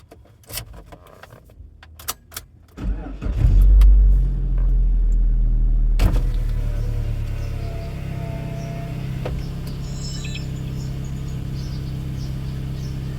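After a few light clicks, a Suzuki APV van engine cranks and catches, then settles into a steady close idle with a faint high belt squeal riding over it.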